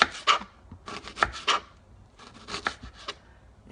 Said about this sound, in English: Now for the onions, when you chop them